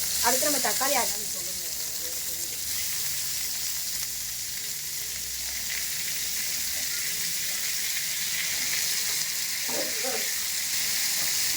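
Onion and tomato sauté loudly in a hot pan for pepper chicken, a continuous frying hiss with stirring, while a voice talks briefly at the start and again near the end.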